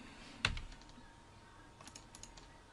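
Computer keyboard typing during analog schematic capture work: a single sharp keypress burst near the start, then a few faint, scattered key taps later, heard alone against quiet room noise.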